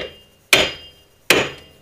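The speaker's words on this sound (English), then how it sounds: "at this one, I'm going to take a brass hammer." Two hard metallic strikes of a brass hammer against the front wheel hub of a Corvette C6, spaced under a second apart, each ringing briefly and decaying, loud and close with no talk.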